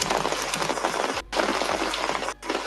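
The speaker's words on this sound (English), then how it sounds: "All I can hear is the rain." Steady rain pours down in a dense, continuous hiss, close and moderately loud, briefly cut off twice as if muted, with no voices over it.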